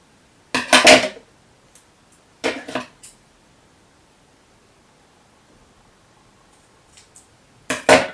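Scissors cut through a paper planner page in three short bursts of crisp snipping and rustling, close and loud, separated by near silence.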